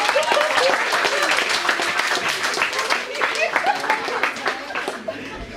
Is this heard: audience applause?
yes